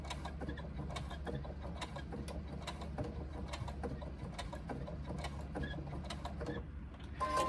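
A sewing machine runs steadily, top-stitching a fabric pouch with a fast, even mechanical ticking and a low motor hum, close and fairly quiet, with no talking.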